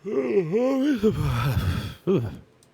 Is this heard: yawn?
yes